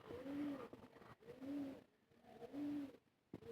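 Several pigeons coo in a slow repeating pattern, with three clear rounds of soft, low, throaty calls spaced about a second apart and close by, separated by short quiet gaps.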